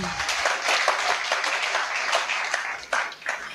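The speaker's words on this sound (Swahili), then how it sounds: "Hebu nichapieni makofi, ni kwa sababu ya Bwana" A congregation claps together at a church gathering, a dense, steady wash of many hands clapping at once, fairly loud and continuous, with a few sharper bursts near the end.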